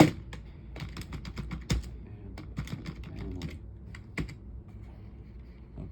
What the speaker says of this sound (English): Let me get my trusty keyboard out.